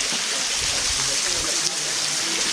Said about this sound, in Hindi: ये ऊपर से पानी आ रहा है।